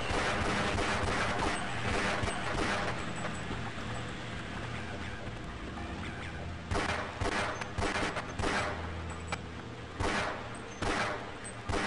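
Gunfire in Half-Life, with rapid bursts of automatic shots and scattered single cracks, loud and close, clustering heavily in the second half, with a player's voice now and then between the volleys.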